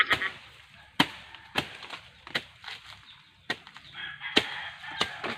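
A bolo knife hacks at coconut husk in sharp, woody chops, roughly eight uneven strikes spread over several seconds, close by, with faint background noise between blows.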